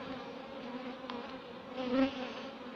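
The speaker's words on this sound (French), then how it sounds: "Bon, les abeilles sont un peu agacées." Soft, steady buzzing of slightly agitated bees at a hive split, close by, with a brief swell near the end and no voices.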